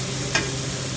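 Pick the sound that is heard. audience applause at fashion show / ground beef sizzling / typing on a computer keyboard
ground beef sizzling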